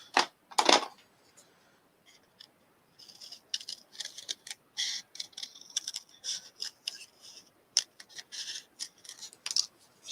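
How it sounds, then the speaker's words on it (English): Scissors snip a zinnia flower stem close by, with a sharp initial cut followed by a string of small crisp clicks and rustles as the blades work through the stem. "And that means I can kind of cut that flower out."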